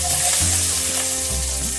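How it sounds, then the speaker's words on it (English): Fenugreek (methi) seeds and chopped onion sizzle and sputter in hot oil for a curried lauki dish, a loud, steady frying hiss with soft stirring shifts, no voices. "as our fenugreek or methi seeds begin to sputter and sizzle in that oil"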